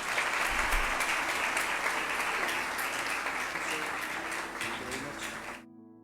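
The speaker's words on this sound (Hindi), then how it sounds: "आइए हम तालियों के साथ इनको खुश आमदीद कहें।" Church congregation applause welcoming a guest preacher, a dense, moderately loud patter of many hands that slowly thins before stopping abruptly, with faint background murmur.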